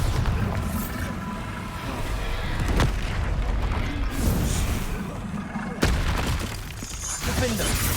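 A Bombarda explosion spell in Hogwarts Legacy, heavy booming blasts and shattering bursts amid ongoing combat, with sharp hits near three and six seconds and a voice speaking over the action.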